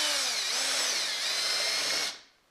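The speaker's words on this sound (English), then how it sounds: "So I'm gonna use a spade bit in my drill" A power drill with a spade bit whirs loudly and steadily at close range for about two seconds, then spins down quickly.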